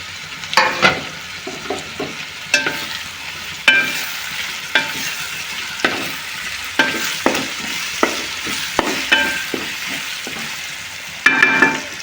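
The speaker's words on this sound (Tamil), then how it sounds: "இப்போ வந்து ஒரு 300 கிராம் தக்காளி சேர்த்துப்போம்." Tomatoes frying with ginger garlic paste in a pan for spicy South Indian crab biryani, with a steady sizzle broken by repeated scraping stirs of a spoon roughly every second, close and clear with no talk.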